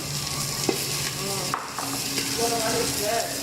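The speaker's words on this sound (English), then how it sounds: "You need to hear the sound." Thai food sizzles and crackles in a pan over a flame in a Bangkok cooking class, with scraping stirring sounds and a few brief clinks over the steady hiss.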